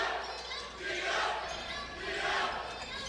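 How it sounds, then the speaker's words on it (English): A crowd at a high school basketball game between the Osage Indians and the Tigers cheers and yells excitedly, swelling twice in loud waves of shouting voices that fill the gym. "This crowd getting excited here."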